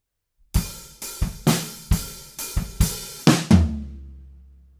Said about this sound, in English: Once more, the fill into the bridge.